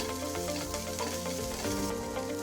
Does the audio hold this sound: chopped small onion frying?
yes